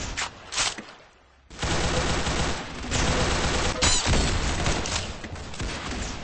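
Gunfire in the video game Arsenal: dense, loud bursts of rapid shots that continue almost without a break after a short lull near the start.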